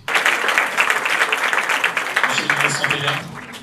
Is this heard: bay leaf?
no